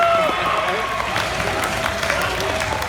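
A convention panel audience claps and cheers in a dense, continuous wash of applause, and a voice briefly rises above the crowd early on.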